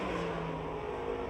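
A Chevrolet dirt late model race car, number 99, roars around the Pittsburgh dirt track at Pennsylvania Motor Speedway, its engine loud and steady at high revs throughout the brief stretch.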